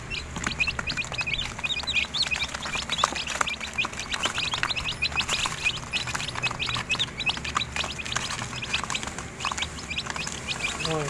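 Chicks and chickens in a small rooftop poultry pen keep up a continuous chorus of high peeping chirps and soft clucks, steady and close throughout.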